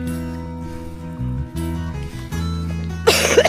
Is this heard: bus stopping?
no